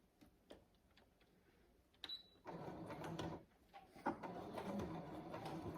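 A sewing machine stitches a mitered quilt corner, pivoting with a short backstitch, heard as a soft, fairly faint mechanical whirring and ticking in bursts, with no talking.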